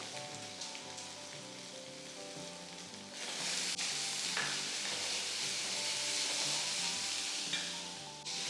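A chopped medium onion is added to a pan with garlic and breaks into a loud, steady hiss of sautéing. Quiet background music plays throughout, and no one speaks.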